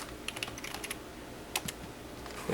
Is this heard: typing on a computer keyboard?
yes